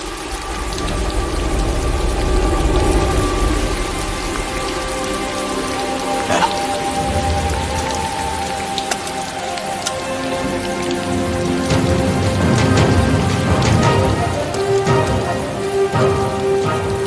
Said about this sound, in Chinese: 真下雨了。